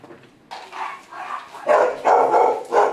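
Excited dogs bark and yip in quick bursts at feeding time, close and loud, several short barks clustering and overlapping over a few seconds.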